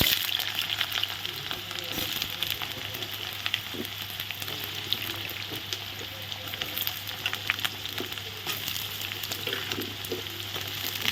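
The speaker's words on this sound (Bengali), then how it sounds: "এখন তেল গরম হয়ে গেছে তেলের মধ্যে এখন প্রথমে আলু ভেজে আলুগুলো আমি একবারে ভেজে নেব" Potatoes fry in hot oil in a home kitchen, a dense, continuous sizzle and crackle held close and steady for the whole stretch, with no talking.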